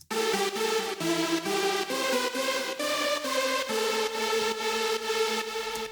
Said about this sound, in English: And the Paradise lead sounds like this